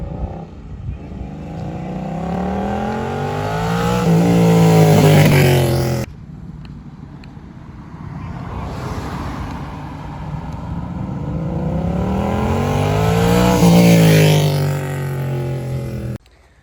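A Yamaha MT-07 motorcycle makes two flybys: each time the engine note rises and swells loud as it approaches, then drops away as it passes. There is a brief lull between the two passes, and no one talks.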